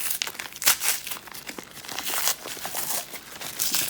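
Packing tape is torn and peeled from a knife box being unboxed, producing close, loud crinkling and ripping bursts in an uneven run of pulls.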